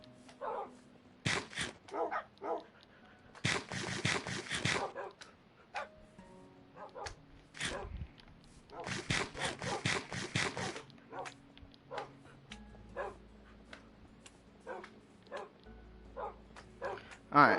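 Dogs in the Minecraft video game yip, bark and whimper in short repeated bursts, mixed with someone talking and game sound effects throughout.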